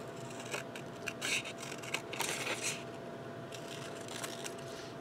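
Scissors snip repeatedly through washi tape while cutting out a square quilt block, a series of close, crisp cuts in short bursts over quiet room tone.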